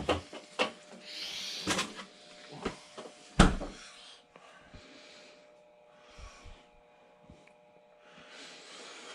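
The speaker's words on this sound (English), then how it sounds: "We're going to open up the freezer for me." A home freezer door opening and closing in a kitchen while baking an apple cobbler, with several sharp knocks and thumps followed by softer rustling and handling sounds, fairly close and with no talking.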